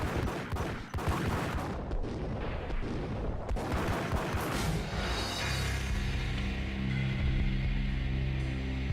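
Gunfire rings out in the video game Max Payne, with dense, heavy shots and echoing blasts in quick succession during the first half before fading into a low rumble and hum.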